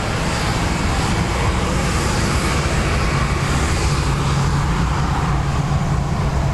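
A jet airliner roars down the runway on its takeoff run at Dublin Airport, a loud, continuous, broadband engine rumble and rush holding steady from start to finish, with no voices.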